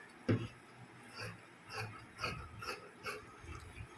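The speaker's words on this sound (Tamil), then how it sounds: "இப்போ நம்ம கட் பண்ண போகிறோம்" Scissors snipping through blouse fabric, a series of short crisp cuts spaced about half a second apart, close and fairly quiet, with no talking.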